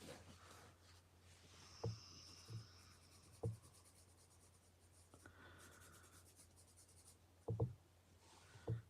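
Pencil scratching steadily across crinkled paper during a live drawing session, a faint continuous rasp of graphite broken by a few soft thumps and taps, close and quiet with no talking.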